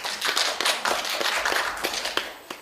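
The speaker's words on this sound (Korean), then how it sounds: "박수로 환영해 주십시오." Applause welcoming a speaker at a Korean education briefing, a moderate crowd clapping steadily for a few seconds, fairly close, with no talk over it.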